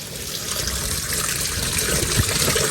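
Tap water runs steadily into a washing machine drum, a continuous splashing gush close by with no one talking over it.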